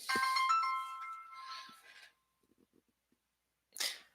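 A phone rings with a bright, chiming electronic tone for about two seconds, stops, then gives one more short burst; no talking.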